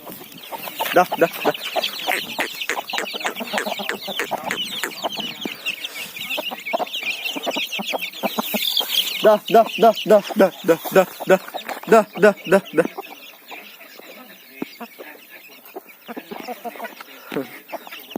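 Aseel chickens clucking in a steady burst of short, rapid calls, with people talking over much of it and a few louder calls from aseel breeder roosters midway.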